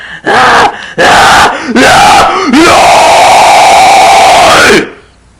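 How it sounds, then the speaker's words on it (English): A high falsetto scream driven by a powerful exhale: several short, loud bursts, then one long sustained cry of about two seconds, close and alone. "and that's how you do that scream"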